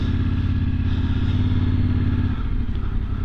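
A Yamaha Ténéré 700 adventure motorcycle idles loud and close in first gear, its parallel-twin engine putting out a steady, throbbing rumble that shifts slightly in tone partway through.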